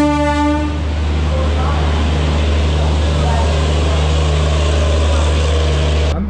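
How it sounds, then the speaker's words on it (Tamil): Gatimaan Express train pulling into a station platform, a loud continuous low rumble and wheel roar with a sustained horn tone at the start, steady throughout under faint background voices. "பக்கா டயத்துக்கு வந்தாச்சுங்க வண்டி"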